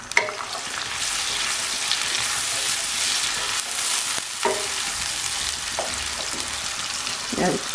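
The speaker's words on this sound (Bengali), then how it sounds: "এবার কেটে রাখা পেঁয়াজগুলো এই তেলের মধ্যে ভেজে নেব আমি" Chopped onions fry in hot oil for a rui fish and pineapple dish, with a continuous bright sizzle, occasional stirring scrapes, and a few louder spits close by.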